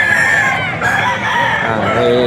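Spartan black roosters at a bustling auction market crowing loudly and close, overlapping calls filling the whole moment with a strained, drawn-out cock-a-doodle-doo.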